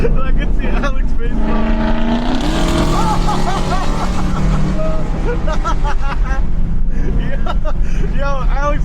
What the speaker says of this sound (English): if you guys hear this supercharger in person, it sounds freaking nuts